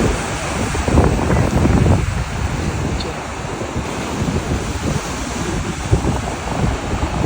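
Ocean surf rolls and crashes along the shore at El Nido, Palawan, a loud continuous wash of waves mixed with heavy wind buffeting the microphone.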